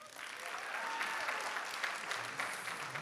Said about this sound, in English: Cheer for our Boosters.